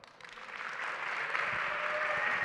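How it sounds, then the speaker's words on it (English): An audience at a European startup innovation awards ceremony breaks into applause that swells from scattered claps into steady, dense clapping across a large hall, with no talking. "One more applause."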